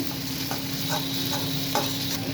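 Onion, ginger and garlic fry in a pan for a fish curry while a spatula stirs them, giving a steady close sizzle broken by several soft scraping strokes, with no voices.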